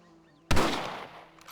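A single sharp rifle shot from the Red Dead Redemption video game bursts out of near quiet, loud and close, then rings off in a long fading tail.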